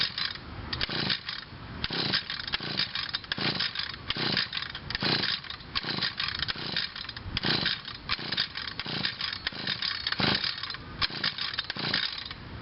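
An Echo SRM 2201 string trimmer being pull-started, switch on and no choke: a rapid run of starter-cord pulls, each a harsh ratcheting rasp, with brief sputtering bursts from the two-stroke engine and no voices.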